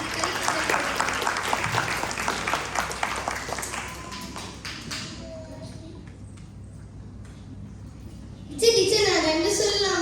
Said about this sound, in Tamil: அவனுக்கு கைத்தட்டல்